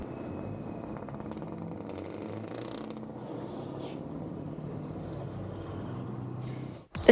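A heavy truck rolls past at a truck show in Ciney, Belgium, with a steady low engine rumble and creaking mechanisms, then a sharp, loud air-brake hiss at the very end.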